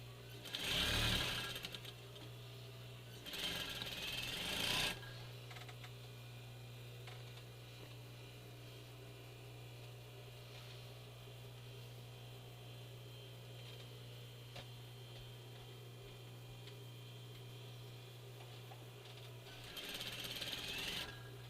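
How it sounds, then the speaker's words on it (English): Sewing machine stitching a narrow center seam on a fabric medical mask, with two short close bursts of stitching near the start and another at the end, separated by a steady low motor hum. "Now you can sew this seam narrow."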